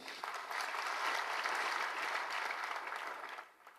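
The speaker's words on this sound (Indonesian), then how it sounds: "Tepuk tangan yang keras." Loud applause from a church congregation swells quickly and holds as a dense, steady clatter of clapping for several seconds, then fades out at the end.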